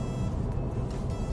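A Porsche 911 Cabriolet drives past, its engine a short, steady mid-distance rumble with a mild swell as it goes by, no talking.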